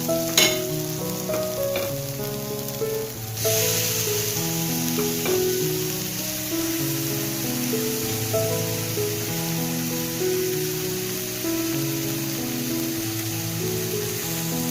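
Capsicum frying in a pan with spice powders for mushroom tikka masala and being stirred; a steady, busy sizzle runs throughout, with music playing underneath.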